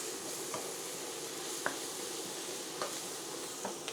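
Eggplant caramelizing in a pan gives a steady, close sizzle with a few soft stirring clicks scattered through it and no talk.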